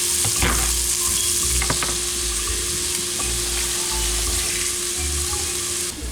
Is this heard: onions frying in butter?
yes